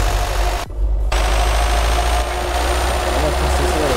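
Low, steady truck-style engine drone from a modded Renault Clio in Euro Truck Simulator 2, continuous with a brief dip, constant and fairly loud.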